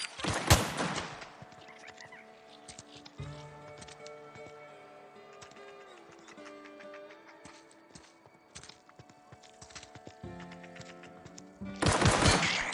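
Gunfire in the video game The Outer Worlds, scattered shots and bursts over game sounds with horse-like clip-clop noises, heaviest at the start and the end.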